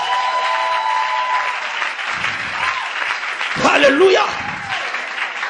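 A church congregation bursts into applause and cheering to acclaim the Lord, with clapping swelling midway under a preacher's voice and singing.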